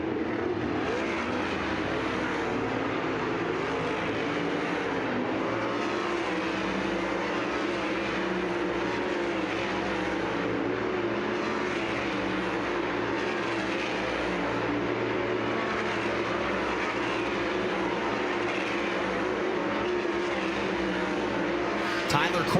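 Sprint cars running hot laps on the dirt oval at I-70 Speedway in a Kubota High Limit Racing session, a continuous engine roar from the pack circling the track, steady and fairly distant throughout.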